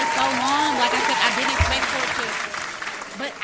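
Applause and clapping from a small group in a bar talk-show setting, steady and fairly close throughout, with a voice talking over it.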